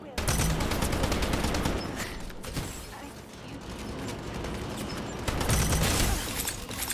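Gunfire in a shooter video game, dense rapid bursts of automatic fire with mechanical clacks, loud and close, easing slightly midway before swelling again, with voices briefly over it.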